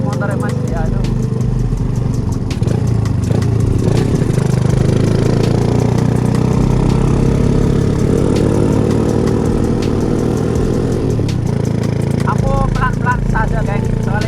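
A motorcycle engine running at idle nearby, a loud steady low rumble with a brief rise in revs, while people talk over it.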